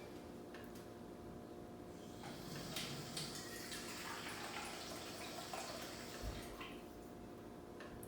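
Water is poured into a measuring cup while cooking, a quiet, uneven splashing and trickling that swells and fades over several seconds and stands alone without talk.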